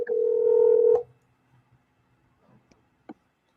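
A telephone line opens with a steady tone lasting about a second, cut off abruptly, and then a few faint clicks and ticks follow in near silence.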